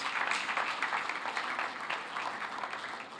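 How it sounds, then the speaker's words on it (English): Steady applause rises from an audience at a Lagos State public service presentation, a dense, even roar of clapping hands that holds throughout, slightly easing toward the end. "So a round of applause for the Lagos State Public Service."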